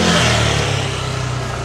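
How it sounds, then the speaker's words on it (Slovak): A motorcycle engine revs up near the start, then settles into a steady mid-pitched idle with a fast rhythmic putter, heard up close without talk. "Tak teraz, či bude počuť túto akože motorku."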